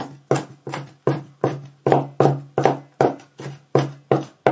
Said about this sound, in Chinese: 再把大蒜给它剁成蒜末。